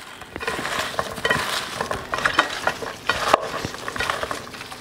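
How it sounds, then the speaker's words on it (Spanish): Buttered vegetables—asparagus, broccoli, potatoes, carrot, red and green bell pepper and onion—being stirred in a pan for oven-baked chicken, a close, steady sizzle with scraping and soft clinks throughout. "Y ahora los vamos a revolver."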